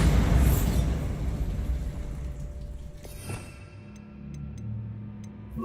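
A Bombarda spell blast in Hogwarts Legacy opens with a loud, rumbling explosion that slowly fades, followed by a soft secondary thump and a few light ticking sounds.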